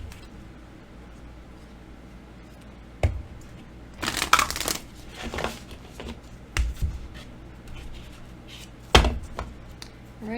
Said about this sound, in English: This was from the previous reading, so I'm gonna have to shuffle.